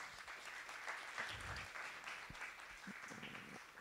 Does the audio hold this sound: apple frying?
no